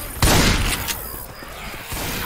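A loud burst of gunfire in a modded Left 4 Dead 2 match opens with a heavy blast, followed by dense rattling shots and mechanical clatter over a couple of seconds.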